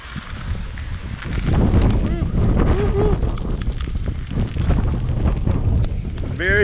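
Strong tropical storm wind on Grand Cayman buffets the microphone in loud, continuous gusts, with scattered rustling and faint voices beneath the roar.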